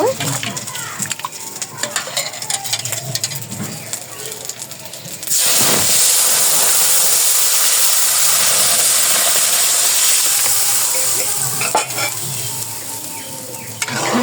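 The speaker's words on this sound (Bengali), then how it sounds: "একটা বলক এনে নামিয়ে ফেলছি" A pot of liquid on a village kitchen stove bubbling and steaming, heard as a steady loud hiss and seething that swells suddenly partway through and holds, with faint clinks of utensils before it.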